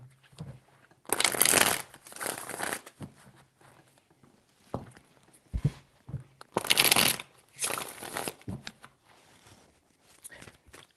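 Tarot cards shuffled by hand in a few separate rustling bursts with quiet handling between them, close by and without speech.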